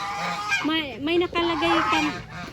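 Several geese honk loudly and close by, a run of nasal, wavering calls overlapping one another with hardly a pause.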